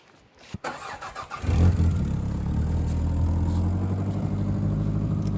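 A car engine turns over and settles into a steady idle while warming up before a drive, clicks and a brief rev leading into a constant mid-pitched hum that stays close and loud.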